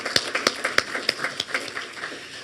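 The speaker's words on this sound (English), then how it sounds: "if you want to give them a round of applause" Light audience applause for a residents association board of directors, scattered claps from a small group, fairly quiet and brief, fading after a couple of seconds.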